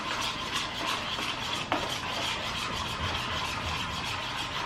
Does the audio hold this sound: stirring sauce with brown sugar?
yes